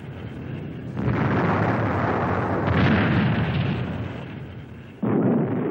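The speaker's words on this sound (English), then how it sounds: "For every incoming shell, the Marines shoot several back" Artillery at Khe Sanh roars in heavy, sustained blasts of rumbling explosion, loud and close, a long booming rush fading slowly before a second sharp boom bursts in near the end.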